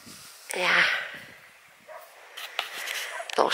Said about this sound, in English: Collie barking. Barking at the sea.